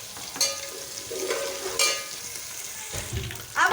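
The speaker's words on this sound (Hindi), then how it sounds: "सबसे पहले ऑयल डालेंगे, उसके बाद अदरक लहसुन का पेस्ट। अब हम अदरक लहसुन लाइट ब्राउन करेंगे।" Ginger garlic paste frying in hot oil for a Pakistani-style tinday gosht, with a steady soft sizzle broken by a few louder stirring scrapes, close up and with no talking.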